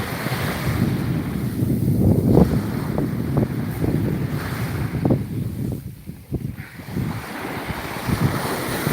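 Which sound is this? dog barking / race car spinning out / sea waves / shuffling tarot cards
sea waves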